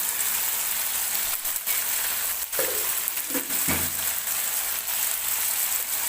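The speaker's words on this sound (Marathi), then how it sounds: "आणि छान असं परतून घ्यायचं परत एकदा" Chickpea chole dry curry being sautéed in a pan, a steady broadband sizzle running throughout with a few soft stirring scrapes and spoon knocks near the middle.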